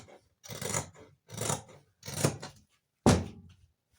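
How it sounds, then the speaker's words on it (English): Scissors snip through fabric for a baby girl's flared dress, four separate close cutting strokes spaced evenly, each a short rasping burst, the last sharper and louder. "Cut that part, and then you cut this other part"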